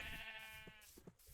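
A sheep bleats in the video game Minecraft, a drawn-out wavering cry followed by a few faint clicks and thumps, quiet and without talk.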